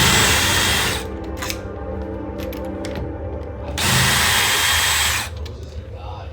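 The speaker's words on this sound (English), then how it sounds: "we're going to grab our drill, because we're not using a hand screwdriver" A power drill backs out the screws of an old lockset latch on a door, with two loud, sustained bursts of whirring separated by a quieter pause of shuffling and clicks.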